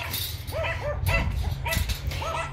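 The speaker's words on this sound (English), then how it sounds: "And she collects those little dogs. They're some kind of form of Chihuahua, I think." Several small Chihuahua-type dogs yap in short, high, repeated barks, fairly close, over a steady low rumble.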